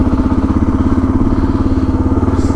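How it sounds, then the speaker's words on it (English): Suzuki DR 650 motorcycle being ridden, its single-cylinder engine giving a steady, loud, pulsing thump with a low rumble throughout and no voices. "Milo Holmes is out on his motorbike riding."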